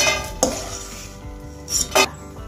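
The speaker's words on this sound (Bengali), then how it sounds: "বড়িটাকে তুলে নিচ্ছি।" Fried lentil dumplings (bori) being lifted out of a frying pan, with a spatula scraping and clinking against the metal pan in a few short bursts over a faint sizzle of hot oil.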